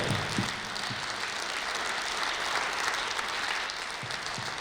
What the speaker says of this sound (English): Please join me in clapping for our 3 dignitaries in BNI style.